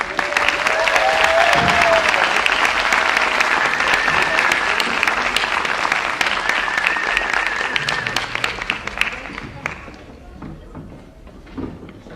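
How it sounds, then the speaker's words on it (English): Loud, sustained applause from a large crowd at a school honors concert, clapping densely for several seconds before thinning out and fading near the end. "Let's give them all another round of applause."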